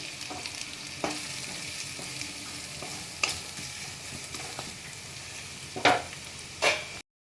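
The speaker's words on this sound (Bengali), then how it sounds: "এবারে দিয়ে দিচ্ছি একটু গাজরটা একদম গ্রেট করে নিয়েছি" Grated carrot fries in a pan with garlic and chopped green chilli, a soft, continuous sizzle under intermittent scraping stirs and a few louder clatters of a spatula toward the end, with no voices.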